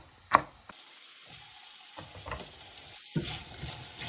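Potato pieces and celery stirred in a pot, with a few sharp scraping knocks of the utensil against the pot over a faint sizzle and soft rustling, no speech.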